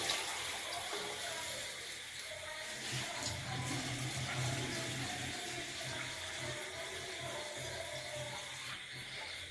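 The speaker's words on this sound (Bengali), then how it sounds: "2 লিটার পানি দেওয়া হচ্ছে।" Water pouring into a large pot for khichuri, a steady, fairly faint gushing stream that continues without a break.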